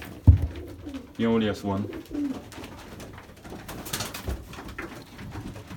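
Belgian racing pigeons in a loft give soft, low cooing calls, fairly close but quiet, with someone talking over and between them.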